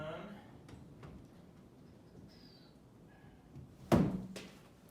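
A Jeep Wrangler door being refitted, with a few faint taps and clicks, then one loud solid thunk as the door seats, a brief low rumble after it, and someone talking quietly before.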